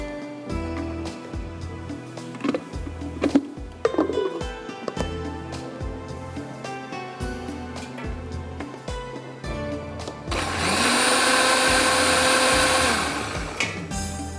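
A kitchen blender whirs loudly for a few seconds as it blends pistachio khoya kheer, starting suddenly with a steady high-pitched motor whine after a stretch of quieter kitchen noise and low background hum.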